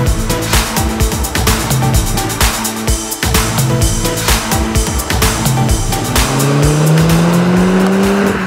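A tuned 2016 VW Golf R with an APR tune drives by loud and close, its engine revving hard with a rising tone near the end as it passes, continuous and dominant throughout.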